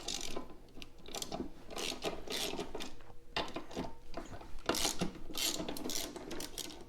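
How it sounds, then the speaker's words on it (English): A wrench loosens the blade bolts on a Honda HRR series walk-behind lawnmower, giving steady rapid ratcheting clicks and metallic rasping, close and continuous with no talking. "So now we're just going to loosen our bolts up."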